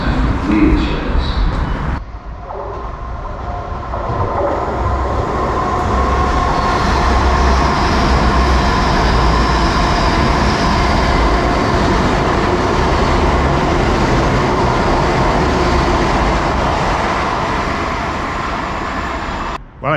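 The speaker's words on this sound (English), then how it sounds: "The fast train now approaching platform 2 does not stop." A fast non-stop train roars through Teignmouth station in England, rising to a loud sustained rush of wheels and rattling carriages that lasts for many seconds before easing slightly.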